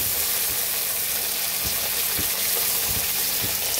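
Cut potatoes and flat beans fry with cumin in hot oil, making a constant close sizzle with soft, regularly spaced pops and taps, like a spatula stirring the pan.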